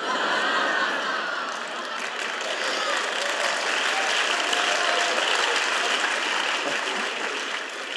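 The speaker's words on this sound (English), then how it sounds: "There's some guys that this is the first time they've ever clapped in church." A church congregation breaks into sustained, dense applause during a sermon, a steady wash of many hands clapping at even loudness for the full eight seconds with no voices on top.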